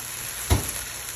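Orzo and wine sizzle in a pan, a steady close frying hiss with one brief louder thump or stir partway through, no voices.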